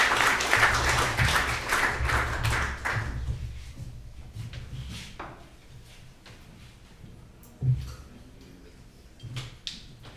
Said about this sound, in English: I close with a round of applause